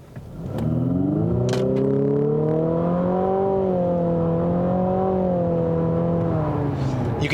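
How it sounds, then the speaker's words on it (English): A 2021 Infiniti QX50 turbo engine revs up and holds a strained, droning rise in pitch, loud and close, with a faint whine riding on top. "You can hear it's a very noisy engine"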